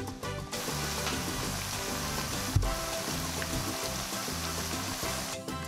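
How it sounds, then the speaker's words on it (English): Plantain slices fry in hot oil, giving a continuous dense crackling sizzle at close range, steady throughout, with one soft knock partway through and no voices. "The plantains are almost done frying"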